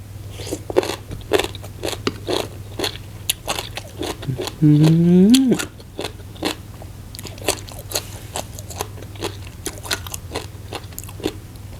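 Crisp bites and steady chewing of crunchy shredded green papaya in spicy Isan-style som tam, close and repeated through the clip, with someone talking over parts of it and a short sung or drawn-out vocal burst midway.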